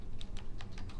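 Typing on a computer keyboard to enter a ping command, five or six crisp keystrokes in quick succession, close but soft, with no talk.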